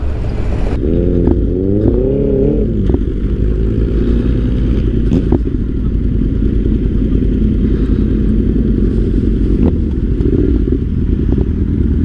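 A Yamaha T7 motorcycle rides through London at night. The engine revs up briefly at the start, then settles into a loud, steady drone with heavy wind rumble and occasional rattles and clicks, and no one speaks.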